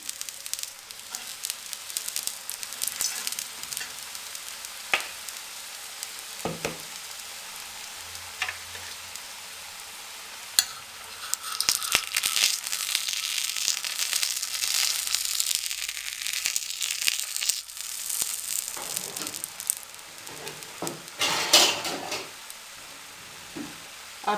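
Makki roti, a maize-flour flatbread, sizzles with ghee on a hot griddle, a steady crackling hiss that swells in louder bursts midway and near the end, with occasional clinks and scrapes.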